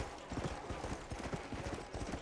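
Quick rhythmic clip-clop of horse hooves at a gallop in Red Dead Redemption: Undead Nightmare, fairly soft and steady, with a faint background hum.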